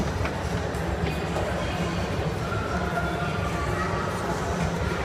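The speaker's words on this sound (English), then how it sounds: "Say bye-bye, choo-choo train." Mall choo-choo train ride rolling along, a steady dense rumble and clatter of the small train moving continuously at close range, with crowd noise and voices in the background.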